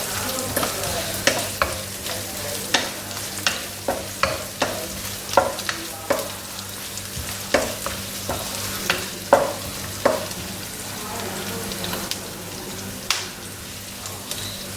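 Onion with bay leaf, cloves, cinnamon and fennel sautés in a pan, a steady sizzle broken by repeated scraping stirs in an irregular rhythm, close and fairly loud with no talking.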